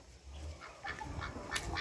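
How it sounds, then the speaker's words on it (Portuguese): Short clucks and bird calls, a few scattered over a couple of seconds, at moderate distance with some background noise. "Aqui tem umas galinhas aqui, uns galos, que a gente tá criando separado."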